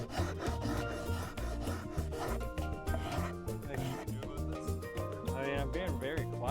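A hand rasp scrapes rhythmically across wood in quick repeated strokes, close and loud, each pass giving a coarse rubbing rasp.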